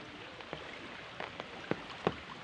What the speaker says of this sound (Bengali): অতিবৃষ্টির কারণে